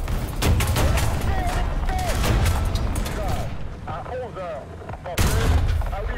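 In War Thunder, tank cannon and gunfire thud repeatedly as a BTR is hit, booming blasts and rattling shots layered under engine rumble and game noise, loud and close with a sharp blast near the end.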